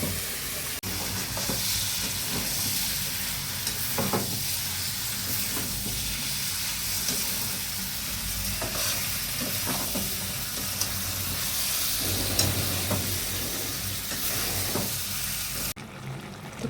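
Malabar spinach (pui shak) cooks in a pan with a steady, close sizzle and frying hiss, occasional stirring clinks breaking through the continuous crackle.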